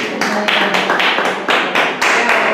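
A small church congregation claps in separate bursts, roughly one clap per half second, close and fairly loud, with no talking over it.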